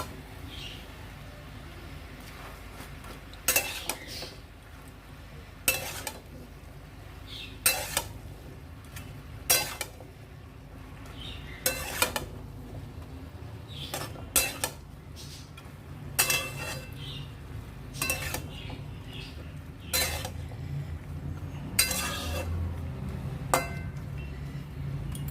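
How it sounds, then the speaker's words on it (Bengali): A spoon scrapes and clinks against a pot while a vegetable curry with green chilli and ginger is stirred, irregular metallic knocks over a faint low background hum. "এবার সমস্ত উপকরণ ভালো করে নেড়ে চেড়ে ঢাকা দিয়ে দেবো সেদ্ধ হওয়ার জন্য।"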